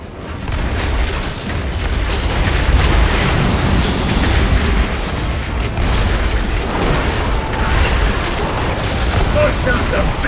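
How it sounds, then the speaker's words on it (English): Big bombs explode in World of Warcraft's Undermine questing, a dense, continuous roar of blasts and booming impacts that stays loud throughout, with combat noise and voices mixed in. "Bust out the big bombs, boys! Blast ya!"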